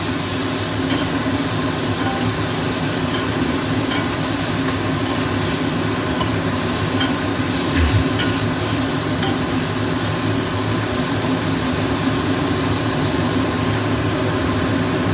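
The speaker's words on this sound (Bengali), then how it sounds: "এবার একটু নাড়াচাড়া করে দিই, কারণ খোসা ছাড়ানো আছে, এটা কড়াতে আটকে যায়" Peeled hog plums are stirred in a wok while cooking into a chutney, a steady scraping and faint sizzle running continuously, with a few light clinks of the spoon against the pan.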